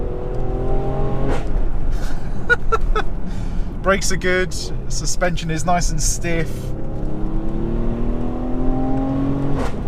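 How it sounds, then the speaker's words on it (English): A 2017 Mercedes GLE43 AMG engine pulls hard on a rural B road, its rising revs sweeping upward in long continuous climbs near the cabin, with someone talking over the drone for much of the time. "Got to listen to that engine."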